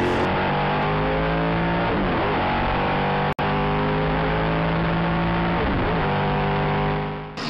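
Formula 5000 race cars at the Lady Wigram Trophy, loud engines screaming and shifting through gears as several cars pass close by in quick succession, with brief drops and rises in pitch.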